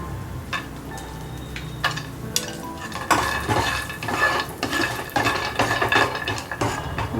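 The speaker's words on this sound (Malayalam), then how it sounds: "ഈ അണ്ടിപ്പരിപ്പ് വറുക്കും. ചെറുതായിട്ട് മൂപ്പിച്ചാൽ മതി അണ്ടിപ്പരിപ്പ്." Cashew nuts frying in a pan for pulav while a metal spoon stirs them, giving repeated scraping clinks and knocks over a soft sizzle, close and moderately loud.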